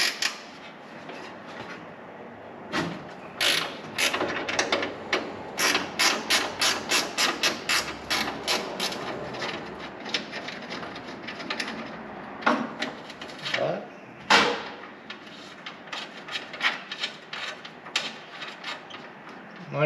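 Ratchet working on car radiator bolts, rapid clicking bursts in repeated runs with louder knocks between, close and fairly clear, with some faint talk underneath.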